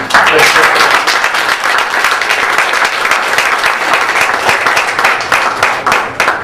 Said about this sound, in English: if you want to clap, then it better be a nice clap